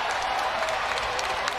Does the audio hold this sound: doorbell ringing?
no